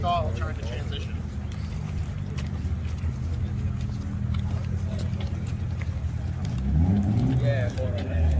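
A drift car on a track at a drift clinic, its engine droning steadily and then swelling as it accelerates near the end, with a loud, continuous, close rumble throughout.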